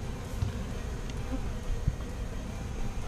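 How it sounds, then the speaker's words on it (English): A swarm of honey bees packed into a hive box, a steady dense buzzing drone, close and moderately loud, with a few faint knocks and no talking. "that is a full box of bees."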